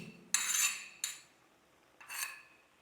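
Chhana (cottage cheese) stirred in a pan for sandesh, three close scraping strokes of a utensil across the pan, each a short rasping burst with pauses between.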